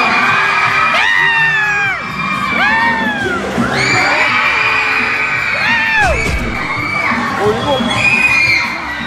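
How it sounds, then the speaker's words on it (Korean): A packed fan meeting crowd at a Gwangju web content festival cheers, with loud high-pitched shrieks and whoops rising in repeated waves over scattered clapping and chatter. "박수로 환영해주세요."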